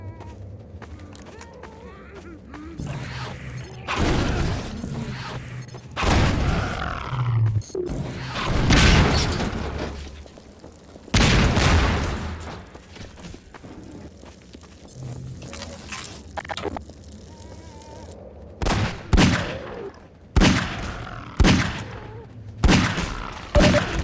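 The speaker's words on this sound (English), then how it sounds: "I think that explosion was meant to go off" Several heavy booms and blasts from a scripted explosion in Half-Life 2 punctuate the game's ambient noise, followed later by a string of sharp, evenly spaced bangs like gunfire.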